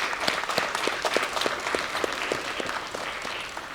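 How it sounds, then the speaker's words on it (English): Audience applause for family members, parents and guardians at a National Junior Honor Society induction ceremony, a steady sustained wash of many hands clapping with distinct individual claps standing out, moderately near and filling the room. "give your family members, parents, guardians, friends, family a round of applause"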